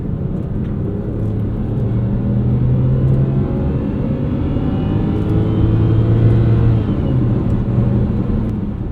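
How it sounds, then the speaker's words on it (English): A 2007 BMW X5 3.0si with its N52 straight-six engine and around 250,000 miles revs hard on kickdown, a steady, smooth rumbling engine drone with rising and falling tonal bands, heard alone and close from inside the cabin. "I also love how these engines sound from this era. That straight 6, the N52 is such a good engine."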